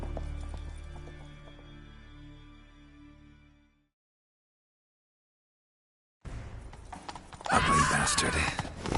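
Horses galloping in a PS4 video game, with a rhythmic hoof clatter over low rumble for about four seconds, then silence, followed by a burst of loud, dense action noise.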